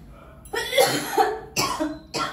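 Three harsh coughs from a cold in a row, close and fairly loud, the first a longer double burst followed by two shorter ones.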